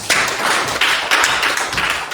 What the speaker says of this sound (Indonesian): tepuk tangan dulu untuk Anita.